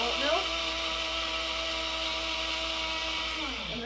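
Electric blender grinding local oats for goat's milk honey oatmeal cold process soap, a steady loud whirring drone whose pitch climbs at the start and drops as it winds down near the end.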